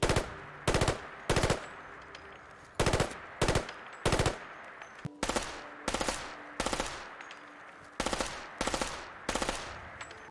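Rapid bursts of GIAT FAMAS rifle fire from a Fallout 4 sound replacer mod, around a dozen short loud volleys in uneven rhythm with sharp attacks and brief echoing tails, no talking.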